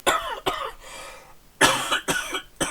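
Several sharp coughs in two bursts, a pair early on and a longer cluster after a short pause, loud and close.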